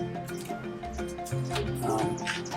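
Wet ground clay from Ormond Village, New Mexico, with temper added is worked by hand, giving soft irregular squishes and wet slaps close up.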